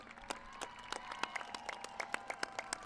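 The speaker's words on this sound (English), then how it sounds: "One last round of applause" Graduates and families clapping at a high school commencement ceremony in a stadium, a faint, sparse patter of distinct individual claps spread across the distance.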